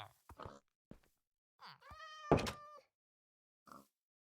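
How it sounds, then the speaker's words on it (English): A Minecraft cat meows in short bursts: a few soft chirps, then one longer, louder, clearly pitched meow, and a final brief mew after a pause, all in otherwise quiet surroundings. "Again, I hear a cat."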